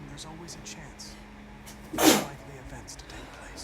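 A single sharp sneeze from a character in the video game Detroit: Become Human bursts out briefly in the middle, with game dialogue spoken around it.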